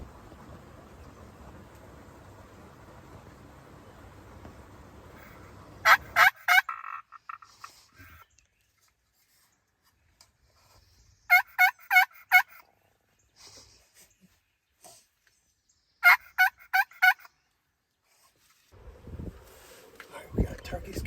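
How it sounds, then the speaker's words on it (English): Wild turkeys gobble from the woods at moderate distance in three separate sharp rattling bursts, with quiet pauses between them and a voice talking before and after. "we got turkeys gobbling behind us, not that far."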